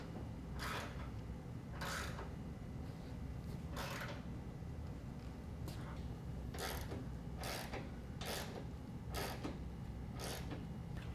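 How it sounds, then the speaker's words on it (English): A 22 mm wrench ratchets while tightening lower control arm bolts during a 6.5-inch suspension lift install, with about ten short, bright clicking bursts in an uneven rhythm over a steady low hum, quiet and fairly close. "retighten our lower control arm bolts using a 22 millimeter"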